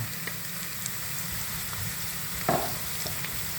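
Curry leaves hit hot oil in a pan for a Kerala-style rabbit roast, a steady crackling sizzle with a few sharp pops and a brief louder spatter.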